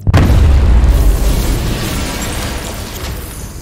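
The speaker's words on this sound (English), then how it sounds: "Need to be at a safe distance before I detonate." Explosive caches detonate in Batman: Arkham Knight, one heavy booming blast with a deep low rumble that lingers and slowly fades over several seconds, with no talk.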